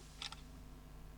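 A Samsung Galaxy A17 phone camera takes a photo, giving a quick pair of soft shutter clicks close by over a quiet background hum.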